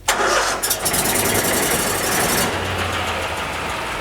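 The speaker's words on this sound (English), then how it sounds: "You got your engine right here. Just pull the choke, adjust your throttle." A small gasoline engine on a duct-cleaning truck is pull-started with choke and throttle set, catches, roars up loudly and then settles into a steady, close running drone.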